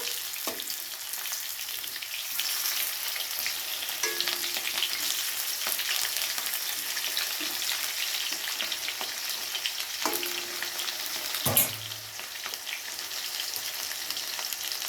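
Potato pieces and cut pointed gourd fry in hot oil for a Bengali katla fish curry, a steady close sizzle running throughout, broken by a few soft stirring scrapes and one brief louder clatter near the end.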